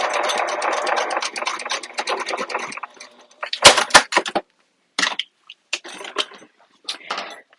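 A sewing machine runs a steady, rapid stitch through tote bag fabric for about three seconds, backstitching at the end, then stops and leaves a few scattered clicks and handling noises.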